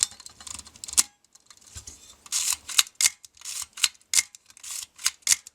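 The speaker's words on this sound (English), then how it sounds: "Now the camera will cock and fire." A Nikon FE camera body being unjammed, its shutter cocking and firing in a rapid run of sharp mechanical clicks and snaps, close and loud with brief pauses between bursts.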